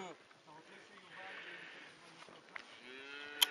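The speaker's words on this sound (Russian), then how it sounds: "Это бык." A bull moos in a drawn-out, low call on a cycling trip between Elad and Hamat Gader, heard at moderate distance while people talk nearby.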